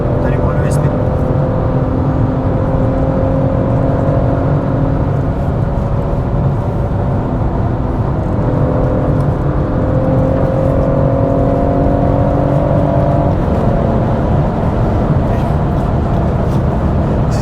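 A BMW M140i drives hard on the Nürburgring, its engine a steady loud drone with harmonic tones that rise and shift as it pulls, continuous throughout while people talk inside the car.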